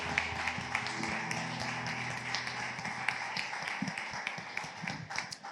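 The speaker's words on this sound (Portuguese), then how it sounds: "dando palmas para Ele" A church congregation claps its hands in praise, with a dense, steady patter of many claps filling a reverberant hall. The clapping comes in at moderate volume, with some voices and music underneath.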